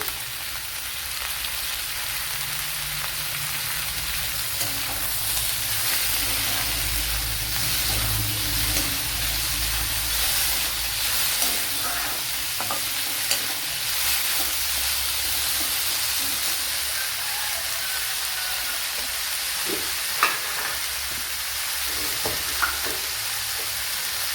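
Cut tomato sizzles steadily in a hot pan while a Malayalam-style sheemachakka (breadfruit) curry cooks, a continuous close frying hiss with faint scraping and occasional small pops.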